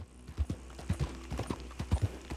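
Horse hooves clip-clop in Red Dead Redemption 2, an uneven string of close, distinct thuds with a few soft snorts between them and no talking.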